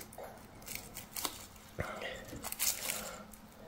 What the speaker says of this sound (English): now I'm going to insert the onions